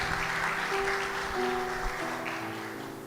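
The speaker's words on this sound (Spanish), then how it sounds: "Un aplauso también para Diana." A church congregation applauds steadily, a dense wash of clapping that fades slightly toward the end.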